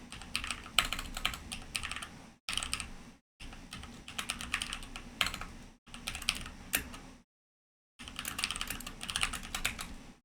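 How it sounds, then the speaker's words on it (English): Rapid keystrokes on a computer keyboard while an email address is entered, close and clear, coming in several bursts separated by brief silent pauses. "let me type mine, Vishaal."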